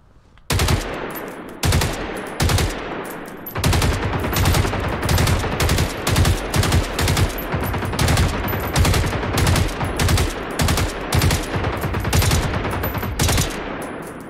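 Repeated loud bursts of automatic gunfire into a wall in Generation Zero, each volley short and sharp, following one another in a steady, near-continuous rhythm with brief gaps between strings of shots.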